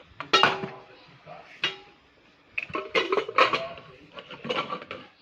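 Steel plates and utensils clatter and clink as rice and soybean curry are served out in a home kitchen, several sharp metallic knocks separated by quieter pauses.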